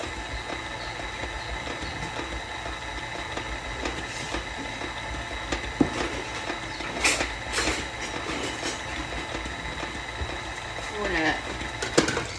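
An electric mixer kneads homemade bread dough made from freshly ground wheat, giving a steady mechanical drone with rhythmic knocking and occasional clatters, close and continuous, with no talking.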